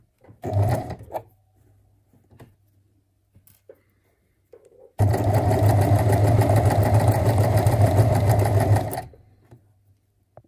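A sewing machine stitches a skirt pleat in one steady whirring run of about four seconds, close and loud, after a few faint handling clicks and taps in a quiet room.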